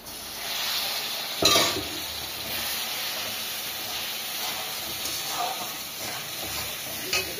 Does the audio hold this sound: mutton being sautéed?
yes